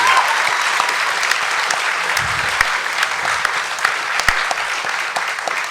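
Sustained applause from a live-show audience fills the room steadily, with scattered louder claps standing out and no voices on top.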